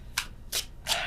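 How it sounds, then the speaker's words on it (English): Tarot cards being moved and shuffled, three short papery riffling bursts in quick succession, close and fairly soft, with no talking. "I was just moving the cards."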